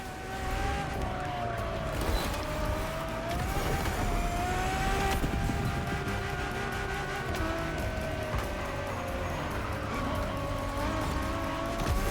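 A Ferrari road-legal Formula One-style hypercar drives in The Crew: Motorfest, its engine holding a steady, loud tone over twelve seconds, with shifting pitch, brief tire noise and a continuous roar without pauses.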